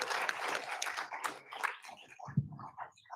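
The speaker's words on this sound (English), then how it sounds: "Let's give them a great round of applause." Brief, thin clapping from an audience applauding panelists at a public meeting, scattered hand claps fading out within a few seconds.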